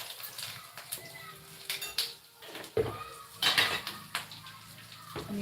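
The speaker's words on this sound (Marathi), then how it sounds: "आता टाकली मी डाळ सगळा मसाला मस्त असं भाजून घेते शेंगदाणे व कढीपत्ता" Dal, peanuts and curry leaves roasting in a pan for Marathi-style chivda, with scattered clinks and scrapes of a utensil against the pan, a few louder knocks, and a faint background hum.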